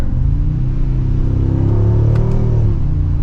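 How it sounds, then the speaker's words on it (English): Mercedes-Benz G-Wagon V8 exhaust note, a loud deep rumbling drone that rises and swells as the engine revs, heard continuously from start to finish without any talk. "especially with the V8 and that exhaust note"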